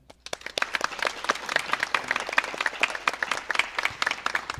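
An audience at a county scholarship challenge final applauds the first-place team, with dense clapping that starts quickly and holds strong and steady for several seconds.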